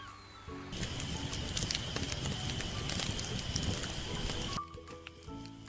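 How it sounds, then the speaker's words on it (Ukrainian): Dense crackling and popping of a burning campfire, many sharp snaps over a steady hiss, starting and stopping abruptly. "Шум вогнища."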